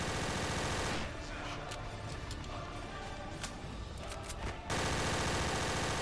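Gunfire in Counter-Strike: Source on a zombie escape map comes as bursts of rapid shots over busy game noise, moderately loud and fairly continuous.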